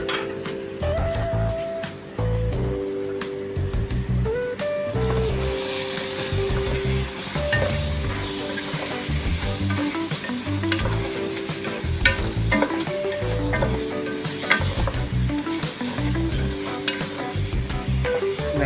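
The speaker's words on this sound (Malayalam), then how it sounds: "ഈ പൊടിയെല്ലാം ഇട്ട് ഒന്ന് ഇളക്കാം," Spice powders stirred into a chicken kurma with black pepper in a hot pan, giving a steady sizzle with repeated scraping stir strokes throughout, close and fairly loud over a tonal background.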